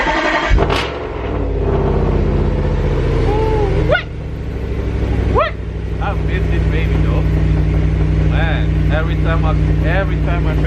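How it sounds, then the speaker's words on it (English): An Audi RS5 V8 is cold started, firing up with a sharp crank and burst, then settling into a loud, deep, steady idle rumble with revs blipped twice mid-clip, heard up close. "let's get a cold start on deck"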